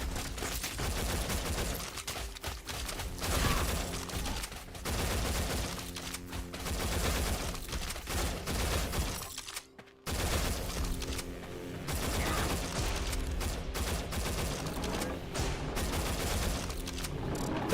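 Guns fire nonstop in the game Mycopunk, rapid bursts of automatic shots and mechanical clatter, loud and dense, broken by a short pause midway before the shooting resumes.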